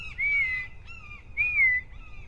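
A red-shouldered hawk at a falconry school in central Ohio gives two clear, drawn-out descending calls about a second apart, moderately loud over faint low background rumble.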